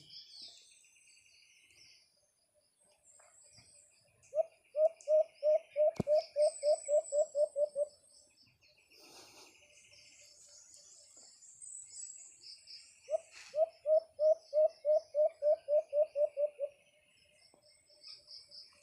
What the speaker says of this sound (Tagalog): Pag ganyan yung huni ni Merwin mga paps na nasa pugad na medyo malakas yung huni.